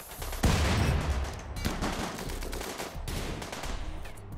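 Automated defense turrets in Rimworld fire sustained bursts of rapid shots, loud and dense, with sharp heavier impacts punctuating the continuous rattle.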